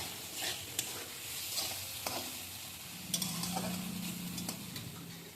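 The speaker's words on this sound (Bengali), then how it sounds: "এবার ভালো করে নেড়ে চেড়ে আর মশলাটা ভালো করে আমি কষিয়ে নিচ্ছি" Spice masala for vegetable khichdi is stirred and fried in a pan: a quiet, even sizzle with occasional soft scrapes and light ticks of a spoon, heard up close and alone.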